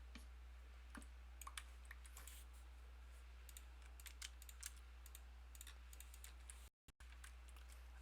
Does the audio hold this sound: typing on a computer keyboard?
yes